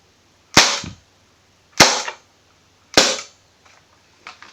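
Airsoft gun firing at a homemade target, three sharp, loud shots about a second apart, each with a brief trailing impact, followed by faint clicks and a soft knock.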